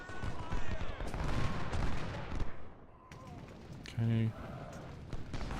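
Cannon and musket fire crackle through a Gettysburg battle in the Civil War strategy game Ultimate General: Civil War. A thick volley rolls for a few seconds, then drops back before a short loud tonal burst, and a voice briefly speaks.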